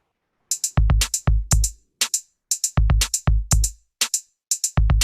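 A programmed drum-sequencer beat with snares landing on 2 and 4 and varied hi-hats over deep kick thumps, playing loud and clean in a repeating pattern with no talking.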